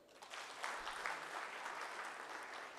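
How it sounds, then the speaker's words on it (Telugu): Audience applause at an awards night for Rotary clubs, including Rotary Club of Amaravati, Kakinada Elite and Vijayawada Sri Durga, a steady dense wash of clapping held for the whole stretch, moderately distant and fairly soft. "చప్పట్లు కొట్టచ్చు"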